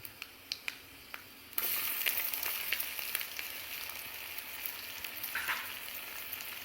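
Onions for egg curry drop into hot oil already seasoned with garam masala and burst into a loud, steady sizzle after a few quiet clicks, crackling on continuously with no talk.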